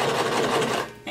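A sewing machine stitches denim for a paper bag maxi skirt, running as one steady, close burst of rapid stitching that eases off just before the end.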